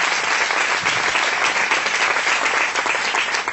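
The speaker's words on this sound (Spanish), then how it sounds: "Dale fuerte aplauso al Señor en esta hora." A church congregation claps in sustained, dense applause, loud and even throughout with no pauses or talk over it.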